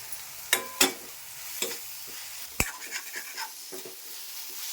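Soaked eggplant pieces dropped into a hot pan and stirred, with a few sharp clacks of utensil on metal over a faint sizzle, close by and without speech.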